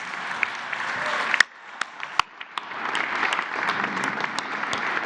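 Clapping for a teacher at a presidential press conference: a few sharp, loud claps ring out over thinner background clapping. The sound then swells into fuller, steady applause from the crowd.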